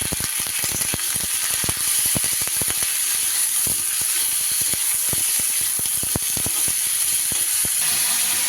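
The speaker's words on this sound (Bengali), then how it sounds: "ফুলকপিগুলো ভেজে নিই।" Cauliflower seasoned with salt and turmeric frying in hot oil in a pan, a steady loud sizzle with dense crackling pops throughout.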